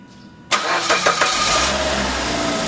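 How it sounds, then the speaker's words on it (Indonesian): A car engine is cranked by the starter and catches abruptly, firing up loud, then running unevenly for a moment before settling into a steady idle; no talking. "Sekarang coba di starter bunda."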